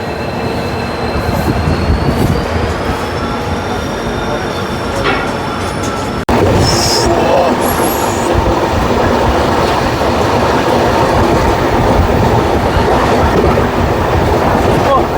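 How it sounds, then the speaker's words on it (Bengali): A new Humsafar Express running from Sealdah to Jalpaiguri through Bihar rumbles loudly on the rails with a steady clatter and high wheel squeal on a curve, heard from inside the coach with a voice now and then. "এইটাই হলো ট্রেন জার্নি বাবু, এইটাই হলো ট্রেন জার্নি।"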